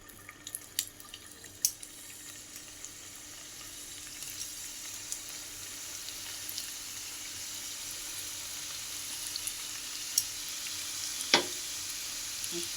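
Oil sizzling in a hot pan after the heat has been turned down a little, a faint steady hiss with a few soft pops and clinks throughout, no talking.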